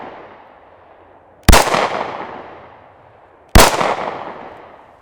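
Two loud, close gunshots from a Glock pistol, each a sharp crack followed by a short decaying echo, spaced about two seconds apart with no talking.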